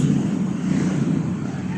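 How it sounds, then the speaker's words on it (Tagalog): Strong, steady wind roars continuously across the microphone, a dense low rumble with gusty texture and no voices. "sobrang lakas ng hangin"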